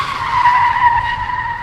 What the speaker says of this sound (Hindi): अमोल ने गाड़ी का ब्रेक जोरों से दबाया और उसके गाड़ी के टायर एक तेज आवाज करके रुके